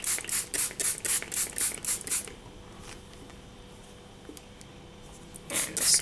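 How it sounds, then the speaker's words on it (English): A handheld spray bottle misting water onto rolled-out silver polymer clay: a quick, even run of about eight hissing squirts, a quiet pause, then two more sprays near the end. "Then I'm just going to spray this with a bit of water."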